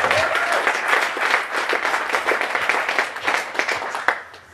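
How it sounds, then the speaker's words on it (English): Audience at the Harker Hall of Fame 2021 ceremony gives coaches a short round of applause, lively close clapping from many hands for about four seconds before tapering off. "So have a little round of applause."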